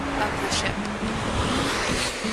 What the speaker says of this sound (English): watching the waves that we're creating, and the breeze is nice